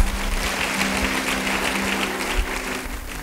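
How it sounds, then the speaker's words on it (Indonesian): Church congregation applauding during a sermon, a steady wash of clapping from many hands that holds evenly for a few seconds, fairly loud and without speech over it. "Yang setuju beri tepuk tangan bagi dia"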